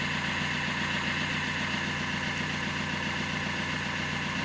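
A Fiat Linea with a 1.3 Multijet diesel engine idles steadily, recorded right at the exhaust pipe, giving a constant, even rumble with a faint rhythmic pulse and no talking.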